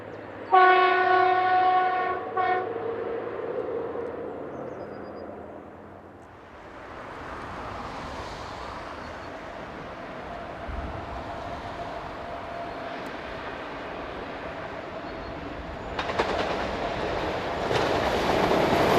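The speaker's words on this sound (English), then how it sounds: "Here it crosses over the Moselle River shortly after leaving Bühle." A two-car class VT772 diesel unit crosses the Moselle River bridge shortly after leaving Bühle. It opens with loud horn blasts, then a steady rolling rumble of wheels that swells again toward the end, with no voices.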